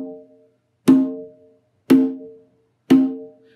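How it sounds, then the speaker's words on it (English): Three resonant open tones struck on a hand drum, about a second apart, each ringing out briefly before fading. "what we call the open tone in hand drumming"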